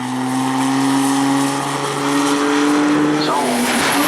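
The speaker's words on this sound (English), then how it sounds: "Johnson's going to straighten tires here." Drag race car at the staging lanes of a drag derby at Maryland International Raceway, loud sustained engine drone with a steady high tone and tire spinning, ending in a brief squeal, with crowd and announcer noise underneath.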